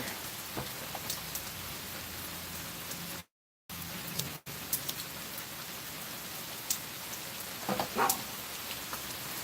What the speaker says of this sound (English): Listen to it rain with an occasional bark.